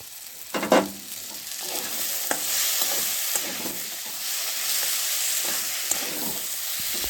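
Chopped tomato, onion greens and peas stir-fry in a pan, with a sharp splash and sizzle as they hit the oil. A continuous loud frying hiss follows, broken by occasional scraping stirs.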